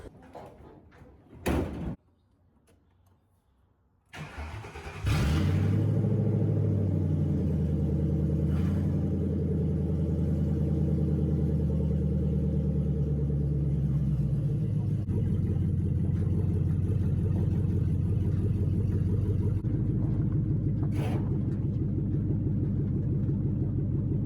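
A homemade rat rod built from an old truck starts up after a door clunks shut, its engine settling into a loud, steady low rumble that carries on as it drives down a rough alley.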